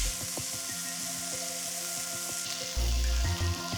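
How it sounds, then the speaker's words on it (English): Steak grilling in a pan for Portuguese-style prego rolls, a steady close sizzle and crackle of fat running throughout with small pops and a brief louder hiss near the end, no talking. "I like my steak medium, so I'm gonna let it grill on this side for about 3 minutes"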